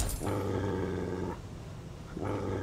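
A dog in the Fallout 3 game growls and barks in two heavy, rumbling bursts separated by a short pause, loud and close.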